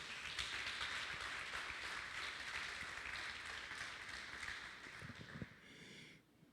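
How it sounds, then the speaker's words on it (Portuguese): Church congregation applauding during a sermon, a steady wash of many hands clapping at moderate distance that thins out toward the end. "dê um aplauso a Jesus"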